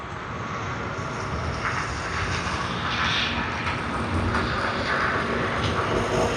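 A jet airliner's engines roar steadily at a distance, a constant broad whoosh that swells slightly over several seconds with no talking.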